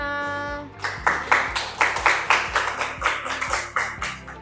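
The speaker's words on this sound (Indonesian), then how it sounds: "Tepuk tangan untuk kelompok 5." A small classroom group claps for a student team's presentation, giving about a dozen distinct, evenly spaced claps in a steady rhythm after a sustained tone fades out, fairly close and without talk.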